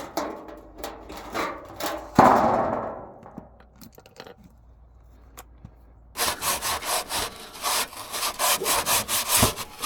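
A Scotch pad scrubs the underside of a classic VW Bay camper in rhythmic abrasive strokes, close and fairly loud, with a quiet pause midway before a fast, steady run of repeated rubbing.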